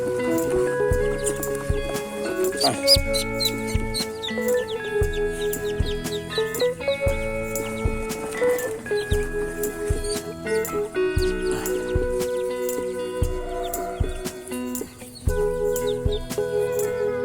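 Seven newly hatched ducklings peep continuously in shrill, repeated calls close by, with scuffling and someone speaking intermittently over them.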